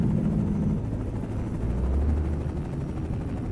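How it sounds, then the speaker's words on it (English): A helicopter flies overhead in American Truck Simulator, a steady, continuous rotor drone with a low throb that holds at a moderate level throughout and has no voices over it. "I see a helicopter flying around."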